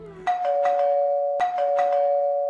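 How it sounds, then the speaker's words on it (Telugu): A doorbell used as a sound effect in a Telugu story audiobook rings twice, each press giving a clear electronic ding-dong tone with ringing overtones, close and alone with no talk. "ట్రింగ్ ట్రింగ్ అంటూ కాలింగ్ బెల్ మోగింది"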